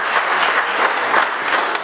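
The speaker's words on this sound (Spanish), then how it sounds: "Ese aplauso para todos ellos, mis amigos de esta casa." Audience applause at a forum marking twenty years, a dense, steady burst of many hands clapping, fairly loud and continuous, with no voices over it.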